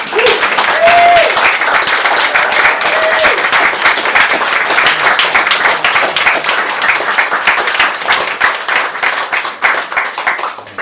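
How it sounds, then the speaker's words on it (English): An open mic audience gives a sustained round of applause, dense hand clapping that stays loud and steady before thinning slightly toward the end, with a brief voice heard early on. "I know that was a big round of applause, but I think another one is necessary."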